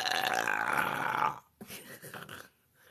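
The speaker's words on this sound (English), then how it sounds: "Was that a gross burp?" A woman lets out one long, rough, guttural burp that fades away, followed by a few softer throaty sounds and then quiet.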